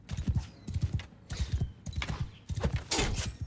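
Horse hooves in Mount and Blade 2: Bannerlord, a rapid clip-clop of galloping strikes in quick bursts, close and fairly loud with short gaps between the runs.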